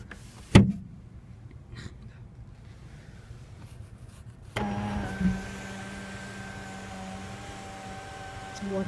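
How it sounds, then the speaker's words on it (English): The power moonroof of a 2011 Nissan Rogue SV AWD: a sharp thump early on, then, about halfway through, a close, quiet electric motor whir starts and runs steadily to the end. "Also has a power moonroof."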